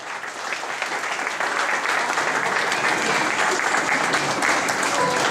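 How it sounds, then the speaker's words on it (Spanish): Loud, sustained applause fills a baptism celebration in Ossining, New York, as a crowd claps steadily for several seconds, close and even throughout. "Por favor, un fuerte aplauso para ellos."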